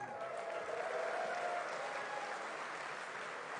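A crowd applauds at a DreamHack StarCraft tournament in Sweden, with steady, sustained clapping filling the hall with no voices over it.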